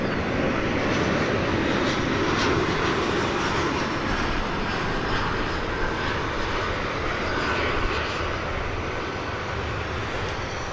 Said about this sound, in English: arriving now, you'll be able to listen to the sounds of an Embraer 175